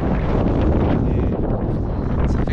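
Strong, cold mountain wind roars against the microphone in continuous rumbling gusts, loud and close, with no other sounds breaking through.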